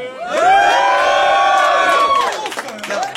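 A loud crowd cheers and whoops together in a sustained roar that fades after a few seconds, close and energetic.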